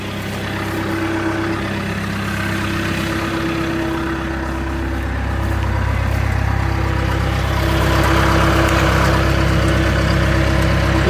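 The diesel engine of a John Deere 490E excavator idles, a steady low, close rumble with a constant drone that swells slightly toward the end, with no talking.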